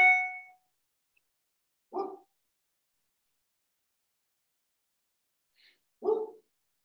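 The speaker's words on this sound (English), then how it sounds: "my dog didn't bark in the background" Two short barks from a single dog, several seconds apart, fairly clear in an otherwise quiet room during an online meeting.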